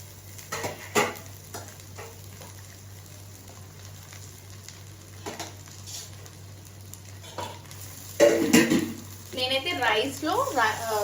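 Tomato rice mixture is stirred in a pan with a low sizzle underneath, and a spoon clinks and scrapes intermittently. A voice talks over it, and the stirring grows busier and louder near the end.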